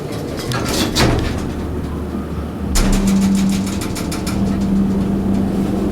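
Original elevator motor in a shopping mall runs with a steady low hum and whine, joined by a rising tone partway through, with door or cab clunks near the start and no talking.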